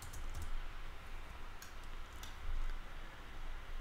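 Typing on a computer keyboard, with a few soft scattered key clicks at close range over a constant low background hum.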